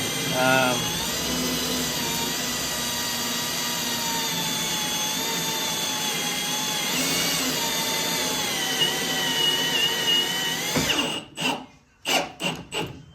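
A power drill drives self-tapping screws into sheet metal while a dash panel is fitted on a 1969 Trans Am, whining steadily at close range for about eleven seconds before giving way to short taps and thumps.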